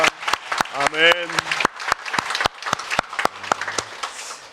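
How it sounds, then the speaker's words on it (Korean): A church congregation at a Korean-language Sunday service clapping after a prayer, sparse separate claps near and loud at first, then a sustained ripple, with voices heard over it. "우리 하나님께 감사의 박수 올려드리겠습니다."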